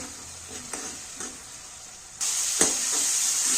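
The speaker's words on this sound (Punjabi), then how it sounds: "ਤੇ ਹੁਣ ਆਪਾਂ ਮਸਾਲੇ ਨੂੰ ਚੰਗੀ ਤਰ੍ਹਾਂ ਭੁੰਨਾਂਗੇ ਜਦੋਂ ਤੱਕ ਕਿ ਟਮਾਟਰ ਨਹੀਂ ਜਿਹੜੇ ਆਪਣੇ ਸੌਫਟ ਨਹੀਂ ਹੋ ਜਾਂਦੇ" Masala with tomatoes roasting in oil as it is stirred, a crackling sizzle with scraping spoon strokes that suddenly swells louder partway through, close by.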